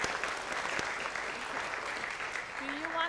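Audience applause fills an academic awards ceremony at a university business school, a steady, dense wash of clapping that holds evenly throughout with no talk over it.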